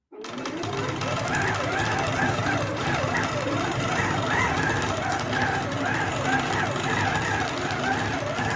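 A domestic sewing machine hums continuously and close up as it runs through a single stitch, a steady whirring drone that starts abruptly and holds for several seconds, with a voice speaking faintly over it.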